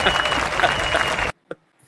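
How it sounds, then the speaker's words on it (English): A short burst of dense applause or clapping that cuts off abruptly, followed by near silence with a faint brief sound. "I got to give you applause on that."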